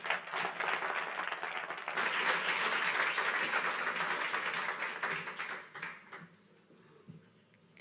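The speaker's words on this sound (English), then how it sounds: "Another round of applause there for Martin's speech." Sustained audience applause at a launch event, dense and steady for several seconds before thinning out and fading near the end, with no talking.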